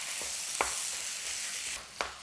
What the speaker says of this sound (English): So I'm in here chopping up this beef